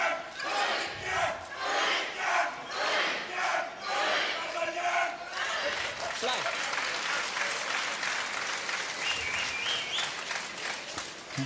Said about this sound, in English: I'm quite surprised the umpire allows him to wait for the crowd to cheer